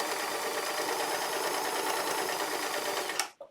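A sewing machine runs a test seam on stretch fabric for swimwear, giving one continuous, loud, even whir that stops abruptly near the end.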